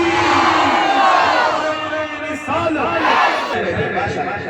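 A religious gathering's crowd roars a Nara-e-Takbeer slogan in loud, massed shouts, with a brief dip midway before a second swell of voices.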